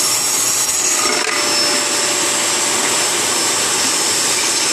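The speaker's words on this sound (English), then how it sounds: "And I'm going to vacuum this." A vacuum cleaner runs in a home garage, a loud, steady, close-up drone with a bright hissing airflow that holds unchanged throughout.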